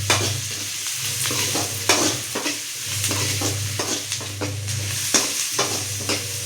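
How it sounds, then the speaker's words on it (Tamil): About ten cloves of crushed garlic fry in oil in a pan while a spoon stirs and scrapes, giving a continuous sizzle broken by repeated sharp clinks and scrapes, close and fairly loud. "பூண்டு நல்லா வதங்கிடுச்சு"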